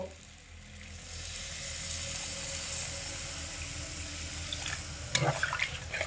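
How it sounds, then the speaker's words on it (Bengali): Water poured from a tap or jug into a pan of potato curry cooking on medium heat, a steady broad rush with a light sizzle underneath, growing busier with splashes toward the end; no talk. "এবার আমি এর মধ্যে পরিমাণ মতো জল দিয়ে দেব"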